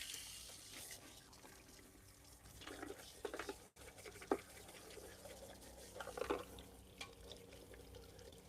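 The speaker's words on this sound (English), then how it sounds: "Let me rinse this out first." Water running and splashing faintly as hair is rinsed at a salon wash basin, a low steady trickle broken by a few louder sloshes and drips, with no voices.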